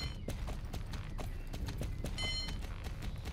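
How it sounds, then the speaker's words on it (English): Hooves of a horse ridden in the video game Star Stable clip-clop in a steady, even rhythm, close and clear over a constant low background. "So our horse is moving better and better"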